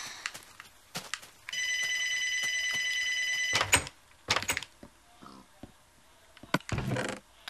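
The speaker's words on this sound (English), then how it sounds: "And of course the phone rings." A telephone bell rings in a sustained burst of about two seconds, alone and fairly clear, among scattered clicks and knocks from a nearby room.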